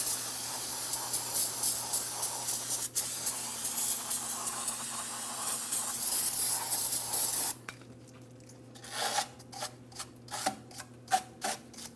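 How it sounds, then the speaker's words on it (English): Parts cleaner sprays onto the rear brake area of a 2007-2014 GMC Sierra 2500 HD truck: a long continuous aerosol hiss for several seconds, then a string of short, sharp spray bursts, close and unaccompanied by speech. "I'm going to use some parts cleaner to clean this area down"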